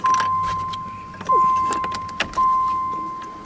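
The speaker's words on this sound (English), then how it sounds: "I hear the fuel pump." The fuel pump of a 1989 Dodge Daytona ES primes as the key is switched on, giving a steady high electric whine that pulses in three bursts over faint rattles and clicks inside the car, with no talk.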